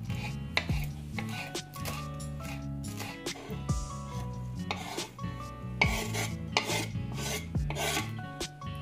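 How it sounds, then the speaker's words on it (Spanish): A knife chopping fresh cilantro, stems included, on a board, with a string of crisp, uneven chops and scraping rubs, close and clear over soft background music. "Ahora vamos a cortar el cilantro"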